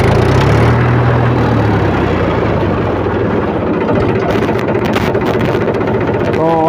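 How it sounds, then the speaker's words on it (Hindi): A Mahindra 265 DI tractor's diesel engine cranks over and settles into a loud, close, low rumbling idle that runs steadily throughout. "तो सबसे पहले हम ट्रैक्टर को स्टार्ट कर लेते हैं"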